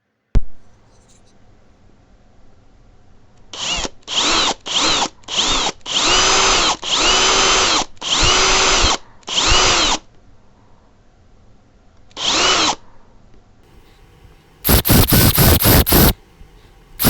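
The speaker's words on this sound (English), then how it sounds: "I'm going to drill that out with a Forstner bit to make them recess" Power drill boring into wood with a Forstner bit while making a wooden glidebait, a series of short whirring bursts of varying length separated by quiet pauses, close and loud, ending in a final louder run.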